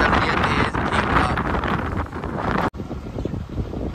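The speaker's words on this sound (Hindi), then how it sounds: "हवा चल रही है तेज ठीक ठाक।" Strong wind buffets the microphone outdoors on a trip in Reasi, a loud, continuous rushing roar with gusty surges that cuts off abruptly and drops to a quieter rumble near the end.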